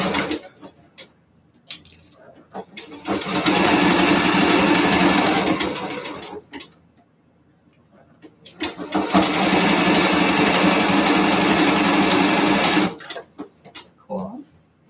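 A sewing machine stitches an old T-shirt into a bodysuit, running in two long steady bursts of several seconds each, separated by quieter pauses with brief handling noises.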